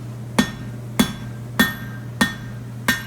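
Hammer blows forging hot steel off the anvil face while making a wolf tong, five sharp ringing strikes at a steady, slightly under one-second rhythm, close and loud over a low steady hum.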